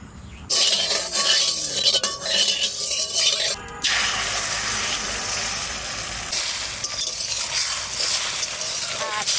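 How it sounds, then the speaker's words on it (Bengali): Eggs frying in a wok in a home kitchen, a loud continuous sizzle with a sharp hiss as they hit the hot oil, then steady crackling close by. "ডিমটা ভাজবো"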